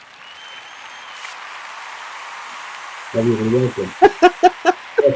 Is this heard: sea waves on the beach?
no